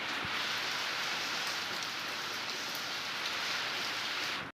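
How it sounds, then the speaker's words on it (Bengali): Heavy rain falls continuously during a storm, a dense hissing wash of drops on surfaces, even and unbroken throughout. "বৃষ্টিও পড়ছে জোরে জোরে"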